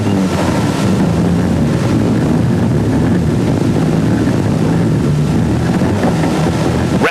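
Group-A Ford Escort RS Cosworth rally car on a stage in Gran Canaria, a loud, continuous close engine roar buried in heavy wind buffeting, with no voices.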